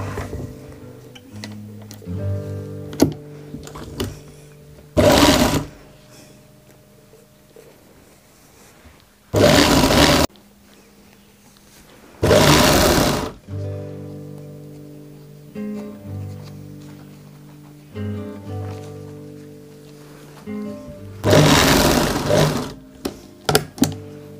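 A sewing machine stitches the neckline of a kurti in four short, loud bursts separated by pauses, over a steady background of soft tonal music.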